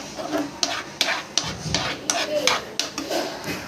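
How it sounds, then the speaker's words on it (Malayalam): Tomato sauce being sautéed in a pan, with repeated scraping and stirring strokes of a spoon roughly every half second over a low sizzle, close by. "അതുവരെ നമ്മൾ എല്ലാം വഴറ്റിക്കൊണ്ടിരിക്കുക."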